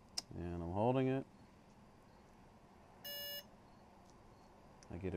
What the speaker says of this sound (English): I get a beep